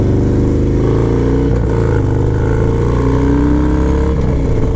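Harley-Davidson Dyna Low Rider S motorcycle engine revving steadily and loudly close by, a deep, continuous rumble with no speech over it.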